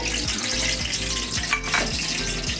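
Cumin seeds crackle and sizzle in hot oil for paneer Kolhapuri, a short close burst of frying hiss with faint pops and no talk.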